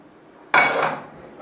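A metal frying pan with a little olive oil clanks sharply once as it is set down or handled, followed by a brief ringing decay and quiet kitchen background.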